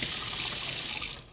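Tap water runs steadily into a kitchen sink as a strainer is rinsed under the stream, a close, continuous hissing splash that cuts off near the end.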